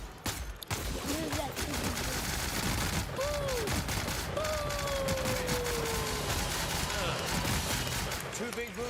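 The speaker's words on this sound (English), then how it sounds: "Two big booms. This gun is gnarly." Gunfire from a gun in the video game The Outer Worlds, dense bursts of shots under a steady wash of game sound and music with sweeping tones.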